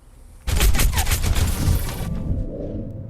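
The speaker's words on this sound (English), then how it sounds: "So Skunk, shoot me straight in the head." Rapid gunfire from D.Va's mech cannons in the hero shooter Overwatch, a sudden loud burst of quick shots lasting about a second and a half, then a trailing rumble.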